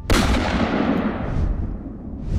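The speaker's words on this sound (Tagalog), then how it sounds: "may kung sino nagpaputok ng baril" A single loud gunshot booms at the start, followed by a long rumbling echo that slowly fades away.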